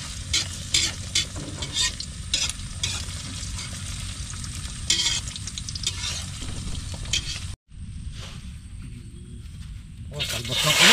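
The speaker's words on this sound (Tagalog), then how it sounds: "Pinirito yung salbos ng kamote." Sweet potato tops sizzle and crackle in a hot frying pan while being stirred, with steady close frying noise, brief scraping pauses, and voices talking over it.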